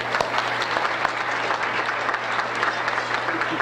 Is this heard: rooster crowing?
no